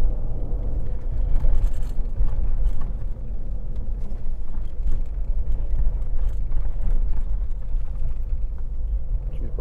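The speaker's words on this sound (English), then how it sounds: "we've got oncoming traffic now." An oncoming car passes on a rough dirt road, its approach and pass lost in a steady, loud engine rumble and gravel road noise from the vehicle travelling the other way, with occasional talk over the top.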